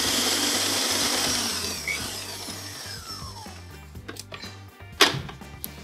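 An electric hand mixer whirs continuously while beating room-temperature butter with powdered sugar for lemon biscuit dough. The whine shifts pitch as the beaters move, followed by a few bowl knocks near the end.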